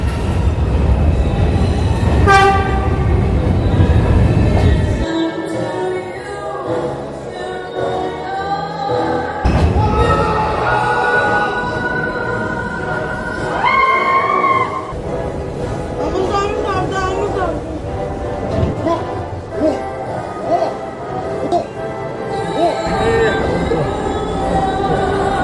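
Subway train ride with rumbling wheels, loud screeching squeals and clattering from the rail car, shifting between heavy roar and quieter stretches as the train moves, with voices talking over parts of it.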